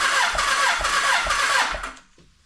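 A 1985 Kawasaki 1100 LTD motorcycle engine cranks over with the throttle held wide open, a loud rhythmic churning of starter pulses for about two seconds before it cuts off abruptly into quiet.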